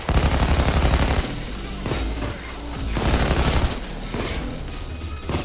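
Dense, sustained automatic gunfire from PayDay 2 during a train heist, loud and continuous with bursts overlapping throughout, punctuated by heavier booms.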